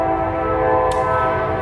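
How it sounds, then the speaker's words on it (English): A train passes close by, a loud steady rumble with a sustained tonal horn-like drone throughout, alone without talk. "Hello, train."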